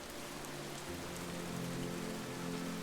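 Steady rain falls in an even, soft patter of droplets, fairly faint and continuous, with a low hum running underneath.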